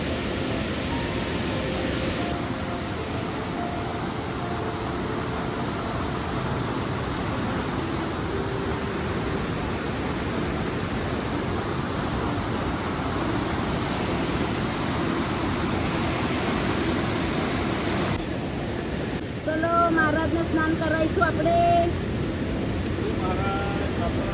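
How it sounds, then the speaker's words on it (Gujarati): A waterfall and fast, turbulent river in Pokhara, Nepal, roar as a loud, steady broadband wash throughout, with faint sounds breaking through near the end. "આ ઉપરથી એક ધોધ પડે છે"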